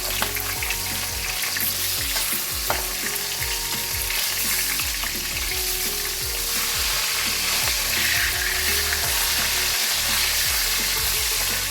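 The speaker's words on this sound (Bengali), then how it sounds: "মাছগুলো উল্টে দিচ্ছি।" Flipped katla fish keeps frying in oil, giving a dense, continuous sizzle close by, with occasional scraping stirs and no talking.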